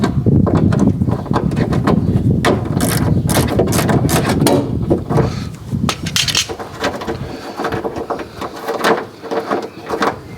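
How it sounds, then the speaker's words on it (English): A ratchet turning a 10mm socket on the door handle nut of a Fiat 500 gives a close, loud run of rapid clicks and metallic scraping, fading into quieter, sparser handling noises toward the end. "And then we come to this 10mm socket."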